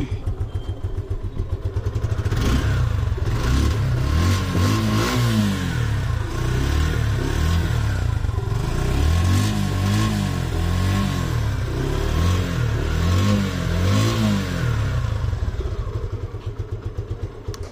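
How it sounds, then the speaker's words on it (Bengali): A Suzuki Gixxer motorcycle engine, a 2025 model in Monotone black with about 1200 km of use, idles and then revs repeatedly in loud, rising and falling bursts before settling back to idle, close by with no talk. "তো দেখাবো আপনাদেরকে বাইকটির সাউন্ড কন্ডিশন।"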